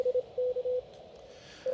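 Fast Morse code CW signal from a portable SOTA station in Spain, received on amateur radio: a single steady tone keyed in quick dots and dashes over faint hiss.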